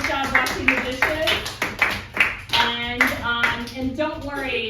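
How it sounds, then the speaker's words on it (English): A class of students applauds after a water-conservation lesson, with a steady patter of clapping hands running throughout, mixed with voices and chatter. "Give yourself a round of applause."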